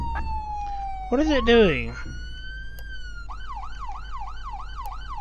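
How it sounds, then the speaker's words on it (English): A police siren that won't switch off in the Flashing Lights emergency video game: a falling tone and a brief yelp, then a steady rapid wail cycling on and off. A person talks briefly over it. "Couldn't get the siren to turn off."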